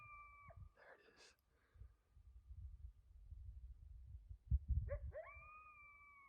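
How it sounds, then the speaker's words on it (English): A coyote howls close by at night before a mule deer hunt, rising tonal wails at the start and again near the end, with rustling and low outdoor rumble in between. "There's a coyote howling like right below me."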